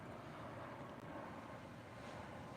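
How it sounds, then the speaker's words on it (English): Faint, steady drone of an airplane passing overhead near a lakeside beach, a distant, even rumble mixed with light wind noise and no talking. "And yeah, you can hear that's just a plane."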